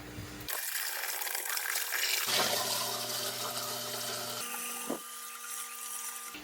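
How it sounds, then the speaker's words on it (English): Water pours into a DWC hydroponic tote with a rushing, splashing fill, and a pump-like whine comes and goes as the flow shifts. The level and tone change in a few abrupt steps. "We're gonna fill it up with water."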